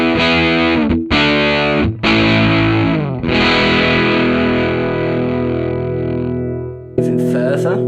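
Electric guitar with humbucker pickups played through a Thorpy FX Veteran Silicon limited-edition fuzz pedal at lowered gain: several sustained distorted chords ring out loud, with short breaks between the first strums, then a new strike near the end.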